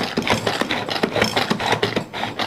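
A hand-operated machine presses cooked jackfruit seeds and pumpkin leaves in an Assamese kitchen, giving a steady run of close, rhythmic scraping and grinding clicks with no voice.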